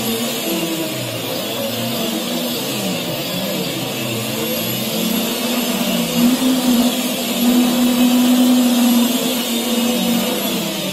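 DIY quadcopter drone motors spinning after arming, a steady whirring whine with a rising tonal hum that grows slightly louder partway through, heard alone and close.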